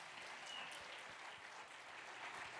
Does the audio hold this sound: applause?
yes